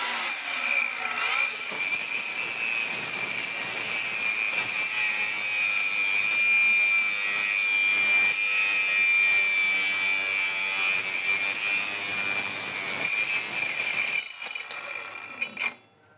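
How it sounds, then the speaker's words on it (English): A multifunction grinder cuts through a piece of wood with a loud, steady, high-pitched whine and rasp lasting about fifteen seconds before the motor cuts off and winds down. "this is the difference if you use a multifunction grinder"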